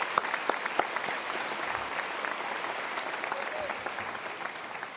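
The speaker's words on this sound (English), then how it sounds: "So how about a round of applause for Bradley?" A graduation crowd at the Antigo High School Class of 2017 ceremony applauds the master of ceremonies, a steady wash of many hands clapping, moderately loud, with a few sharper nearby claps standing out.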